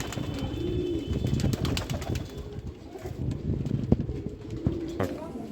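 A purple-necked Rampuri pigeon gives soft, repeated coos close by, with faint voices in the background.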